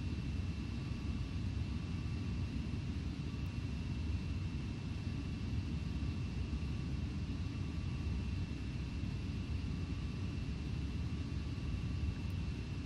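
Steady droning rumble of Boeing 727 jet engines while taxiing in Microsoft Flight Simulator X, a constant broadband roar with faint tonal whine, unchanging and alone.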